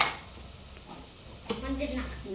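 Chicken curry masala sautéing in a pan: a steady close sizzle with spoon stirring and scraping, and a voice briefly murmuring over the frying near the end.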